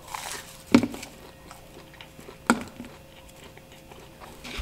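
Two sharp crunches from biting into a Pizza Hut Detroit-style double pepperoni pizza, spaced about two seconds apart, close to the mic, with quiet chewing between them.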